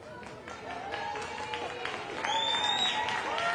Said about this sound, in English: A loud applause for Leiva